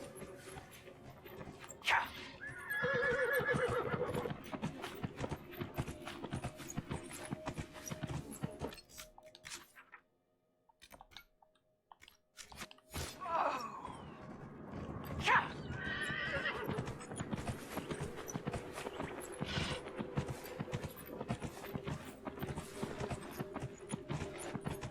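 A horse in Dragon Age: Inquisition whinnies and neighs in short bursts over steady clip-clopping hooves, with a brief near-silent gap midway before the hoofbeats and calls resume at a moderate level.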